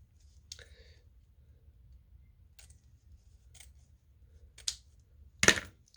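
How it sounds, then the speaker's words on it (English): Scissors snipping through plaid ribbon for a snowman top hat craft: a few sparse, quiet clicks and snips, then one louder, sharper cut near the end. "So I need to cut right there at those squares."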